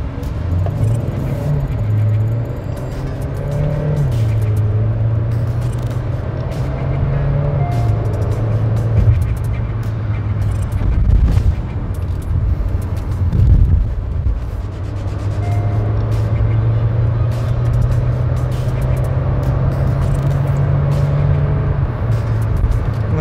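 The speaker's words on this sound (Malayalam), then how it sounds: "നമുക്ക് ഇന്ന് സ്പോർട് മോഡലിട്ടൊന്ന് എടുത്തു നോക്കാം അതിൻ്റെ പെർഫോമൻസ് എങ്ങനെയുണ്ടെന്ന് അറിയാനായിട്ട്." A Hyundai Creta in sport mode pulls hard, its engine drone rising and dropping through gear changes; the steady, close cabin sound runs unbroken and carries no talk.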